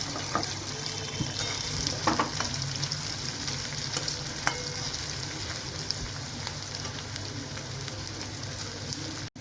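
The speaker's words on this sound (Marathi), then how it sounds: "याच तेलामध्ये आता उरलेला कांदा आपला तो परतून घेऊ" Onion frying in hot oil left over from cooking eggs for an egg biryani, a continuous sizzle with occasional stirring scrapes and small crackles, close and steady throughout, with no talking.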